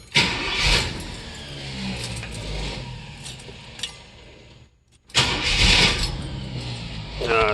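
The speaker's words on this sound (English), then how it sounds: "I'll start it up. You can hear what it sounds like." A 1969 Pontiac Firebird's stock 350 V8 with stainless true dual exhaust cranks and catches with a burst, rumbles unevenly, dies briefly to near silence, then fires up again loudly, close by.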